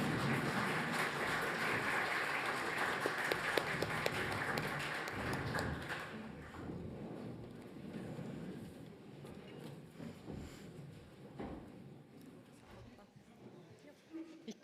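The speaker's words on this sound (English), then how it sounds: "Thank you for the spontaneous applause" An audience at the DigiLog 2023 event stands and claps, a dense wash of applause that thins after about six seconds into scattered claps, with talk mixed in.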